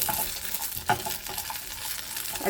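Raisins and cashews fry in hot fat for payasam, giving a steady, soft, close sizzle with faint crackles and a brief stir or clink partway through.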